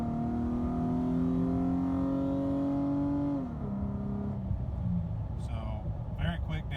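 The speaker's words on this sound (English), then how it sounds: "So very quick downshift, shifting into the next gear, continue to accelerate." A Nissan Frontier pickup fitted with a shift kit accelerates with a climbing engine tone that drops sharply as it downshifts quickly and shifts into the next gear. Someone talks over the engine throughout.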